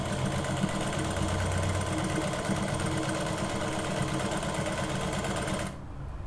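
A sewing machine stitches a button placket with a fast, steady mechanical whir that runs close and even for several seconds, then cuts off near the end.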